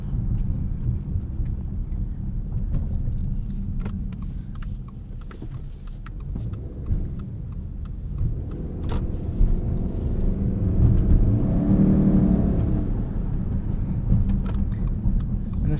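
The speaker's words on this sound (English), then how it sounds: "You get a little bit of low speed whir from the CVT" Low-speed whir from the CVT of a 2020 Subaru Ascent Touring, a steady low drone under rumbling cabin and road noise, swelling slightly midway, with no talking.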